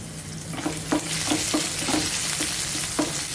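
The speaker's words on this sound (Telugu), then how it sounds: "వీటిని ఒక్క నిమిషం ఇలా ఫ్రై చేసేసుకోవాలి" Chopped ginger, garlic and green chili sizzle loudly in a hot pan, with several sharp scraping stirs of a spoon against the metal over a continuous frying hiss and no talking.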